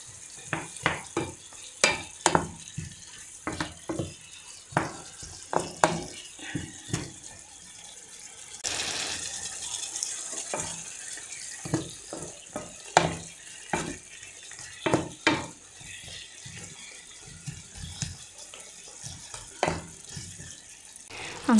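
Spaghetti sauce being stirred in a pan after a splash of soy sauce, giving repeated scraping and clinking strokes over a low sizzle, with a brief run of water midway; close and moderately loud, no talking.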